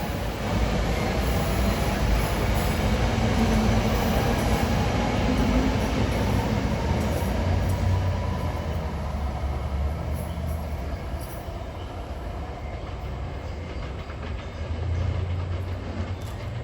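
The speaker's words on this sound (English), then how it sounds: "This is train 1539 from Philadelphia to Thorndale." A SEPTA commuter train running from Philadelphia toward Thorndale, its steady rumble and rolling rail noise loud and continuous throughout, with faint wheel clatter and occasional squeal.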